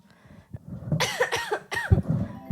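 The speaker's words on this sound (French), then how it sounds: "je tousse encore" A few harsh coughs in close succession, loud and near, with a short pause between the bursts and no talking.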